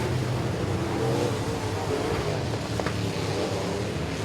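Pro Mod race cars at Boothill Speedway during a heat race, a steady muffled engine drone with a brief rising pass near the end, no voices heard.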